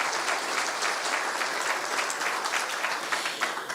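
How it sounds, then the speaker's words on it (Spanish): Steady audience applause for a guest on a panel about climate change and community life, a dense continuous clapping from a crowd at an even level throughout. "Aplauso también para Sandra, por favor."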